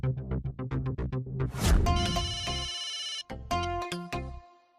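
A phone placed on speaker rings with a melodic ringtone, a jangly musical tune of short repeated notes and held tones, fairly close, with no talking over it.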